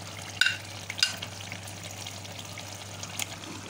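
Fried chicken tipped into a simmering masala for chicken karahi, a soft steady sizzle with a couple of clinks as it goes in, then quiet frying and light stirring.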